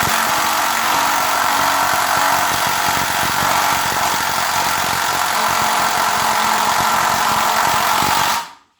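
DeWalt Xtreme 12V drill running steadily at low speed, a loud close whirring motor drone that holds even for several seconds before cutting off abruptly.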